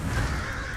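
Crows cawing in World of Warcraft: Battle for Azeroth, one short rough caw near the start over a steady low game background, with no speech.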